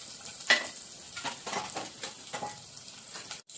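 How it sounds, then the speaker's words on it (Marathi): Steady hot-oil sizzle with quick crackling pops of mustard seeds spattering throughout, close and fairly loud, ending abruptly. "मोहरी छान तडतडू द्यायची।"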